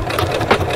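A Singer C430 sewing machine stitches fabric up close, giving a continuous, even mechanical whir for a brief moment.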